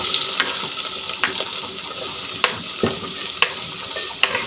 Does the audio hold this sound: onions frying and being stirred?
yes